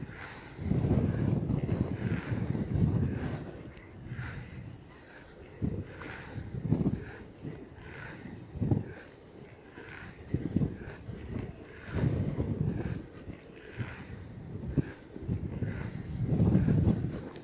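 Gusts of wind buffet the microphone while skating outdoors against a headwind, rumbling in uneven bursts that swell and fade every second or two, loud and close with no voices.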